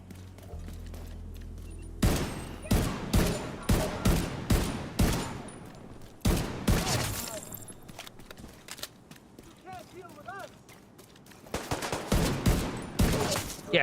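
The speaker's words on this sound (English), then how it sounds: "single fire assault rifle is what I want, because the ammo efficiency." Assault rifle fire in the shooter video game The Division 2: loud, evenly spaced single shots crack out in rhythmic bursts, pausing and resuming, with faint game effects underneath.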